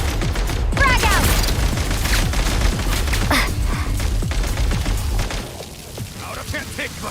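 A frag crystal grenade goes off in Genshin Impact amid steady gunfire, a loud burst of crackling shots and booms rolling on for several seconds, with voices heard through the din.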